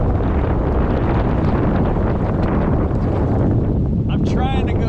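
Strong wind buffeting a boat on a river during a fishing trip, a loud, constant roar with rumbling gusts across the whole clip and faint voice-like sounds near the end.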